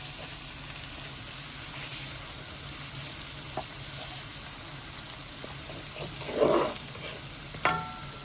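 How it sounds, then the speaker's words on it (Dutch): Frozen mangoes cook in masala in a pan with a steady, close sizzle and bubbling. Occasional stirring scrapes and clinks break through, the loudest near the end. "hier kookt de mango alvast in met de masala"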